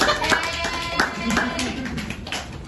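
A few people in a drum-rudiments class clap for a student drummer, scattered sharp hand claps at an uneven pace with talking underneath.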